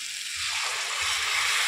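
Cauliflower and potato sizzle in a spiced pan as water is poured in, a loud, bright hiss with a soft low bubbling that swells and continues, close up and without talk.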